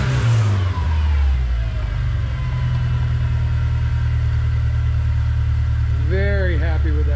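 Classic Volkswagen engine with freshly worked throttle body idling steadily, a loud, continuous low rumble close by, with a brief voice near the end.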